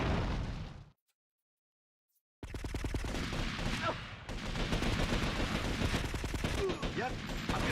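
Gunfire in GTA: Vice City Stories: a dense burst of rapid shots, a sudden silent gap, then sustained loud automatic fire with pops and blasts over game sound.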